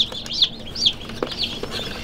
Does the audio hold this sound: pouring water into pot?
no